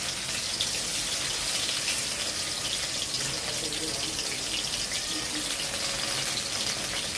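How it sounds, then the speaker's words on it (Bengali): Chopped tomatoes hit hot oil in a pan for a Bengali chicken dish, making a loud, steady, close sizzling hiss that runs unbroken throughout. "প্রথমে টমেটো কুচিগুলো তেলে দিয়ে দিলাম"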